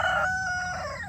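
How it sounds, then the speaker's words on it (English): An Amberlink rooster crows once on a farm during daily chores, a loud, close, drawn-out call with a rising then falling tail, standing alone without talk. "That is my amberlink rooster that just crowed."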